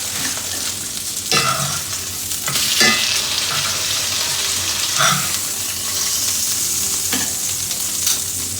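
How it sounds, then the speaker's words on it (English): Pork chops sizzling in butter inside a crock pot, a loud continuous frying hiss broken by several sharp spatters and scraping bursts as the chops are placed, no talking. "And I'm going to place these chops right in our crock pot."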